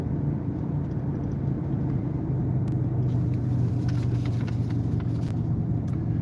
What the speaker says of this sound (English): I'm going to lift my foot off the gas, and I'm just rolling right up.